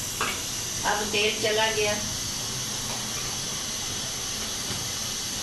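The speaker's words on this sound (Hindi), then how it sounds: "हमारे चूल्हे का बहुत शोर आता है ना जी" A gas cooking stove burner roars steadily in a home kitchen as a Punjabi chicken gravy is started, a constant loud hiss running the whole time beneath a voice speaking near its start.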